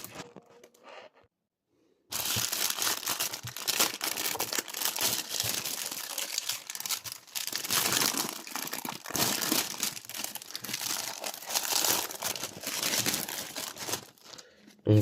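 Wrapped Pokémon magazine being opened, its plastic packaging crinkling and tearing loudly and close for several seconds after a quiet start.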